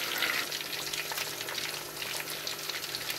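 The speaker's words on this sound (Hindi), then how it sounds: "अब हम आँच को हल्का कर देंगे और 6-7 मिनट के लिए हम उनको हल्की आँच पे पकाएंगे" Fish pieces frying in a pan over a low flame, a steady soft sizzle that holds at an even level throughout, close and fairly quiet, with no voices.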